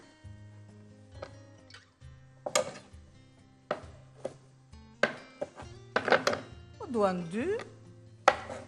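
Medium zucchini are chopped into cubes, with a series of sharp, close knife strikes on a board in an uneven rhythm over background music.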